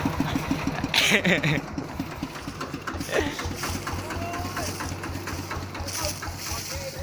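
A small engine idling after being revved, with a steady low chugging pulse and brief louder bursts near the start, close by, with people talking over it.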